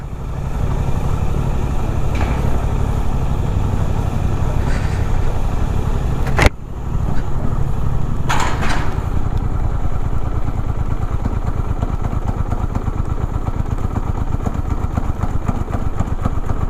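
A Suzuki GSX-8R motorcycle engine labours at low RPM in second gear on an incline, a loud close steady rumble throughout, with one sharp click partway and no speech.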